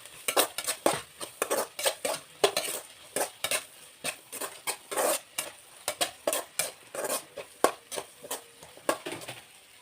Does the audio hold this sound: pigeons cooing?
no